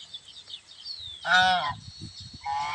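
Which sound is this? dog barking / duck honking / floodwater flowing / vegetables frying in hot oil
duck honking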